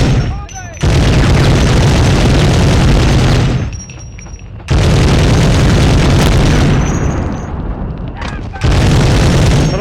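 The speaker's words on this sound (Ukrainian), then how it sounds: "граната" Loud, broadband grenade blasts in the Medal of Honor video game, long roaring bursts separated by brief lulls, close and dominating the scene.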